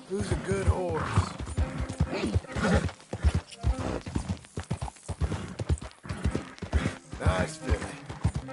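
Horse hooves clip-clop in a close, steady rhythm in Red Dead Redemption 2, loud and continuous, with a brief whinny among them and no talking.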